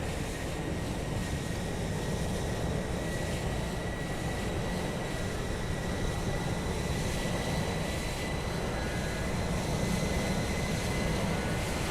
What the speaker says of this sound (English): one for Caitlin, EasyJet on the way out.